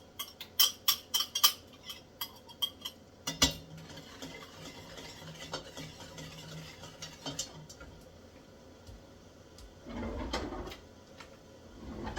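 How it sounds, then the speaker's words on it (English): Six eggs being beaten into a batter by hand in a mixing bowl for a Christmas dinner dish, a run of quick clinking strokes at the start, then scraping and scattered knocks, with a louder sustained stirring burst later on. "I'm also going to beat in my 6 eggs."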